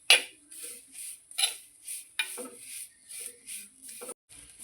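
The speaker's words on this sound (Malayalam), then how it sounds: "കരിയാതെ നമുക്ക് ഒന്ന് ഇളക്കി കൊടുത്തോണ്ടേ ഇരിക്കണം" A utensil scrapes and taps against a pan as food is stirred over a low flame, a series of light, rhythmic strokes about twice a second, close and fairly quiet.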